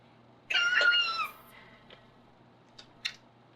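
A cat meows once, a drawn-out cry up close in a quiet indoor room, followed by a few faint clicks and short squeaks.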